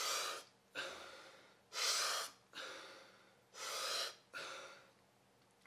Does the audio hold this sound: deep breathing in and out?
yes